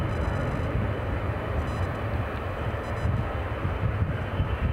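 Loud, continuous roar of aircraft at Edinburgh Airport, a broad rushing engine noise with faint high whine that swells slightly toward the end, heard without talk.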